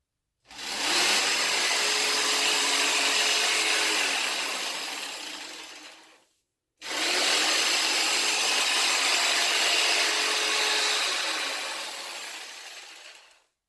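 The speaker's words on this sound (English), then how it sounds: "So we sawed around it with a jigsaw" A jigsaw cuts around the top of a pumpkin in two long, loud, steady runs of about six seconds each. Each run whines and buzzes close up, then tapers off, with a short pause between them.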